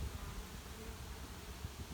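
Honey bees buzzing in a low, steady drone around an opened hive during a honey harvest, with faint rustling and muffled handling noises and no one speaking.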